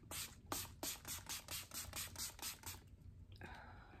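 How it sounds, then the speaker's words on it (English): A facial spray is pumped onto a face in a quick run of about ten short, soft hissing bursts, close and quiet, followed by a brief rustle and a longer faint spray at the end, with no talk. "Now I'm gonna spray my face."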